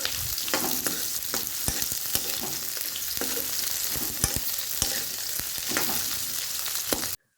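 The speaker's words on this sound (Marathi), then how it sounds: "मिरचीचे चार तुकडे आणि त्यामध्ये बीट घालून थोडंसं त्याला एक पाच मिनिटं वाफ काढून घ्यायची" Beetroot and green chilli pieces cooking in a pan, a continuous close crackling sizzle with frequent stirring scrapes and clicks, ending abruptly in silence.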